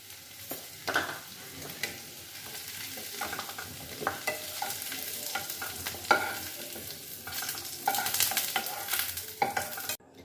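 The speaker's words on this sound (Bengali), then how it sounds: "এবার ভালো করে ভেজে নিচ্ছি।" Potatoes fry in oil with a pinch of turmeric, a continuous soft sizzle broken by repeated scraping stirs of a spatula against the pan, close and fairly quiet.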